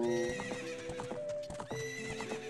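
Horse neighs and clip-clopping hooves from the Zelda: Ocarina of Time video game, a whinny and steady hoofbeats layered with bright game music, moderately loud with no talking.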